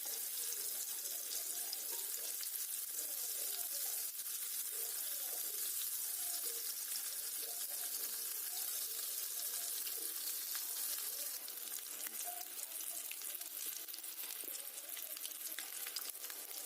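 Fish pieces roasting in hot oil in a home kitchen, a soft, steady hiss of frying that runs evenly throughout at low volume with faint stirring.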